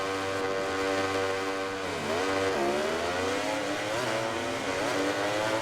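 Ducati MotoGP bike engines in the MotoGP 19 video game roar at a Grand Prix start, revving hard and steadily with pitch sweeping up and down through gear changes, loud and continuous with no talk.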